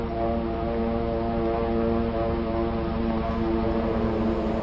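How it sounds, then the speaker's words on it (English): Steady, droning hum of propeller aircraft engines, a layered harmonic rumble that holds at constant loudness throughout, with no voices. "the drone of planes was faintly heard"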